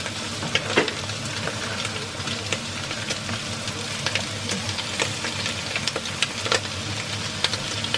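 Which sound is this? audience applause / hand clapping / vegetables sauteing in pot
vegetables sauteing in pot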